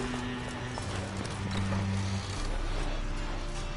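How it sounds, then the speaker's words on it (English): Horses in The Witcher 3 video game stirring in a stable, with steady clip-clop of hooves and snorting and whinnying over a constant background hum. "Gotta calm all the horses before they wake the guards."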